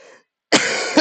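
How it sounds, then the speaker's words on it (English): A person who is mildly ill gives a single harsh cough, loud and close, after a short faint breath and a moment of silence. "sorry for coughing a bunch"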